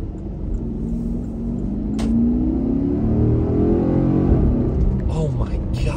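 A 2013 Porsche Cayenne GTS with a V8 engine, heard from inside while driving: a steady, loud low rumble that swells slightly as it accelerates, with a voice faintly present.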